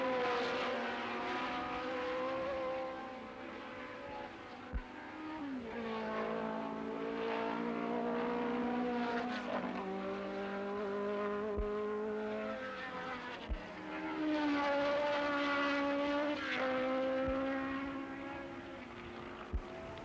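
Late-1960s Tasman Series open-wheel race cars, Ferraris and a Lotus among them, scream past at full throttle in 1969 Australian racing, loud high-revving engines rising and falling through gear changes with no talk over them.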